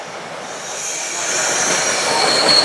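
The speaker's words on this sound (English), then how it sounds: "the commuter train's coming in." A commuter train pulls in on a line near abandoned railroads in Massachusetts, a rising wash of rail noise with high wheel squeal building steadily, fairly close and growing louder, with no talking.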